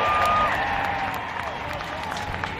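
A large crowd at a Formula Drift event in Orlando applauds and cheers, a steady wash of clapping and voices that fades slightly and holds, with a faint announcer-like voice underneath.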